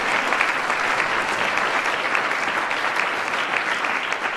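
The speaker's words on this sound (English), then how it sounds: "give yourselves a round of applause" Applause from an assembled crowd of White House staff at a swearing-in ceremony, a steady, dense wash of clapping that holds at even loudness throughout with no voices standing out.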